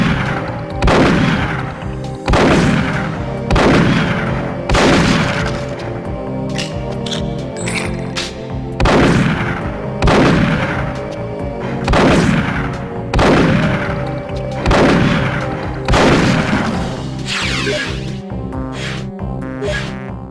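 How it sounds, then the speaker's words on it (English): The DY357LX custom Magnum fires on a firing range in Perfect Dark, heavy single shots ringing out at a slow, steady pace of about one every two seconds, loud and close with long decaying tails. "The DY357LX. This is Trent Easton's special custom Magnum."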